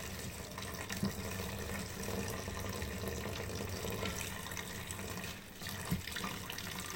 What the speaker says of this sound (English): Just run the hot water on them